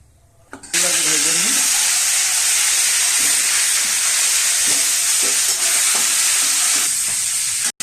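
Steady loud sizzling of a fish head frying in hot oil, with occasional clinks and stirring sounds cutting through the constant hiss.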